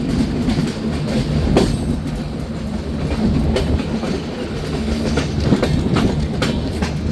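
Loud rumbling of the Kapotaksha Express entering Pakshi railway station, rhythmic clacking wheels and occasional squeals, heard close from onboard, steady and continuous.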